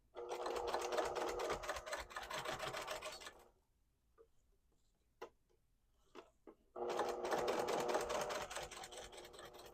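A sewing machine runs in two steady bursts stitching the seam of a witch hat, with a pause between them filled by a few sharp clicks and taps as the fabric is pivoted at a dart.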